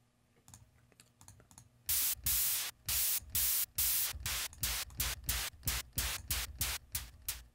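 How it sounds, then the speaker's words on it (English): Synthesized hi-hat-style hits made from filtered noise in Reason, a run of bright, hissy ticks that opens with faint quick taps and then becomes loud, steady, evenly spaced pulses over a low thudding pattern, with no voices. "you could make a little hi-hat style type of sound with some noise and a filter"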